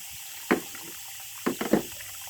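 Blackberry plant roots are swished and rinsed in water, giving a few short splashing sloshes, one alone and then a quick cluster of three, close by.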